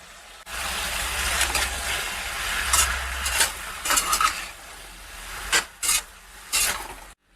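Potatoes and beans frying in a pan, a rough scraping and sizzling texture with a few sharp spatula scrapes toward the end, close and without speech.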